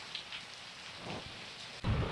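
Steady rain falls and patters on surfaces nearby and sounds fairly soft. A sudden louder low rumble comes near the end.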